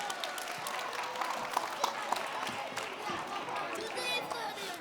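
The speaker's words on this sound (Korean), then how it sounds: "우리 수고해 주신 두 분의 멘토님에게 큰 박수로 격려해 주세요." A church crowd applauds steadily, with scattered sharper claps and some chatter mixed in, filling the room at a moderate level.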